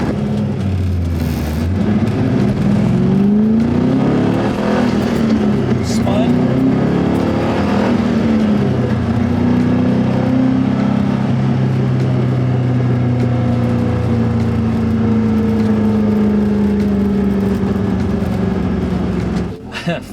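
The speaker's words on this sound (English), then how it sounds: "that's just race car noises, really" A high-spec street and semi-track race car engine revs hard under aggressive driving, loud and close, its sustained drone climbing and falling through the gears with tire and road noise beneath.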